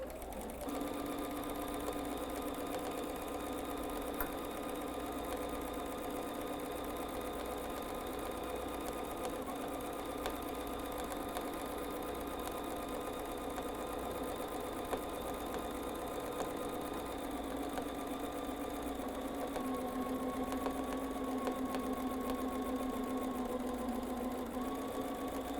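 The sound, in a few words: sewing machine doing free-motion quilting loops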